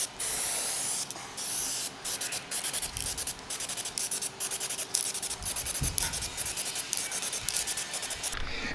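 An aerosol can sprays gloss clear coat onto white plasti-dipped Porsche wheels in repeated short hissing bursts with brief pauses between passes, close and fairly loud.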